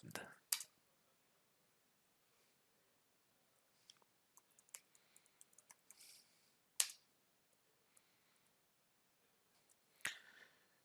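Quiet computer keyboard typing during a programming lesson: sparse, faint key clicks scattered across the stretch, with a few sharper, louder taps near the start, middle and end, and no talking over it.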